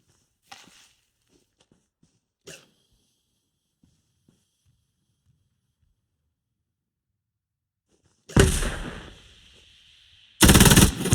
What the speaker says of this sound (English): we'll begin that once soldier starts firing